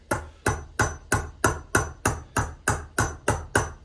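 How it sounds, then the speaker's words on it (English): A chasing hammer strikes a metal vessel in twelve evenly spaced, ringing blows, each sharp and close with a short metallic decay, keeping a steady rhythm of about three hits per second. "So I'm gonna start with my middle hammer,"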